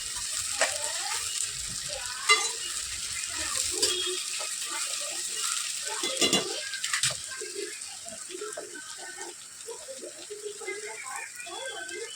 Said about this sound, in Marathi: कांदे थोडेसे फ्राय झाले की आपण मग टोमॅटो टाकणार आहोत. छान असे फ्राय होऊन देऊयात.